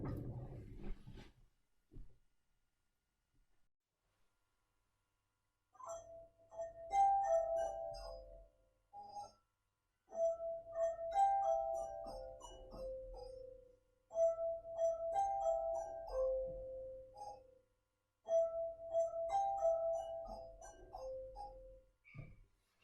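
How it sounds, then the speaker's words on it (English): Ringing tones from a finger circling wine glass rims, sustained singing notes in several phrases with short pauses between. "Rubbing a wet finger on top of the wine glass"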